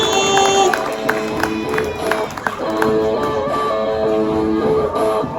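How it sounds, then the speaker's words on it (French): Crowd applauding and cheering at the fourth Oyster Cup oyster-opening contest in Les Sables d'Olonne, a steady roar of claps and whoops with tonal music or announcements layered on top throughout. "on les applaudit très très fort"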